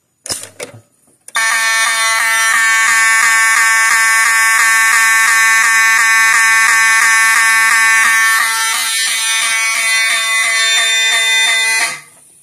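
A loud Notifier NFS2-640 electronic fire alarm blares in a fast, steady pulsing pattern for about ten seconds after a short click from a pull station, then cuts off.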